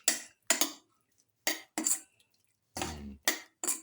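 Spoon scraping and clinking in a pan while mixing a yogurt mixture, about eight short separate strokes with silent gaps, close and fairly crisp.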